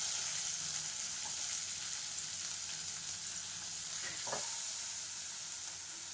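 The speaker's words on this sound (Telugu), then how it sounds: "క్యాప్సికమ్ ముక్కలు వేద్దాము. కాసేపు వేగిద్దాము." Chopped green chillies, peas, onion and capsicum fry in a pan with a steady, close hiss of sizzling oil and a brief stir or scrape partway through; no talking.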